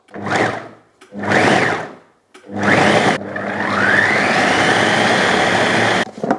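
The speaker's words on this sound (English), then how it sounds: "now I'm just gonna bung the lid on, and we're gonna process this until it becomes a nice paste" A food processor pulses chicken, spices and egg white into a paste: two short loud whirring bursts, then a longer continuous grinding run with a rising whine, close and alone.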